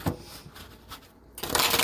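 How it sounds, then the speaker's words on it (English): Tarot cards shuffled by hand, a close series of papery riffles and flicks in short bursts, ending in a louder rush of card noise, with no talk. "These cards seem like they all just want to stick. Okay, let me shuffle it again."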